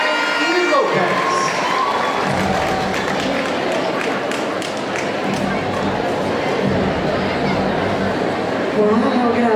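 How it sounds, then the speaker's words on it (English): Loud, continuous crowd cheering and clapping at a beauty pageant coronation night in Silay City, Negros, with shouts and chatter mixed in throughout, the noise steady and dense from start to finish. "Once again, a round of applause for Lin-Ay from Barangay E. Lopez."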